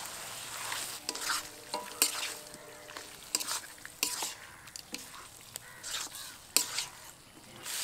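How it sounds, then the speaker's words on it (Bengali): Marinated mutton stir-fried with spices in a pan, a steady sizzle broken by repeated clinks and scrapes of a spatula, while crows caw faintly in the background. "এবার ভালো করে মশলার সাথে কিছুক্ষণ কষিয়ে নেব।"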